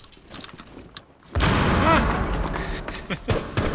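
A gunshot in a tactical first-person shooter: after a quiet stretch of faint game ambience, a sudden loud blast bursts in and rolls into a booming tail, followed by a few smaller thuds and clatters.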